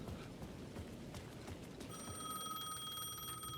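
A payphone in the video game Alan Wake II starts ringing partway through, its bright electronic ring tone sustained and fairly faint over a low background rumble and some faint footsteps.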